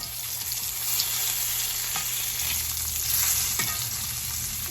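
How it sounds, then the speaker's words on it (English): Chicken sizzles steadily in butter and olive oil in a skillet over medium heat, a continuous close frying crackle with a faint stir or clink of the pan partway through; no talking. "In my skillet, I have this on like a medium heat, just a little bit of butter and olive oil. Going to throw my chicken in"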